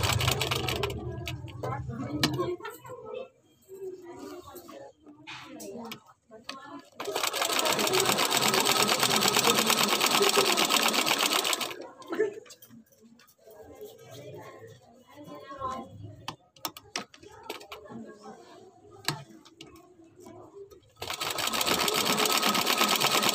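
Electric sewing machine stitching a cloth face mask, running in long loud buzzing bursts with pauses between them, where handling noises and a voice speaking can be heard.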